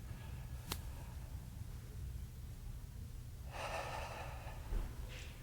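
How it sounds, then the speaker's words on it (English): Slow inhale and exhale during a singing breathing exercise with the mouth held open, heard as soft breathy airflow under steady low background hum, with one brighter rushing breath near the end. "feel the air going in, feel the rib cage expanding. And exhale."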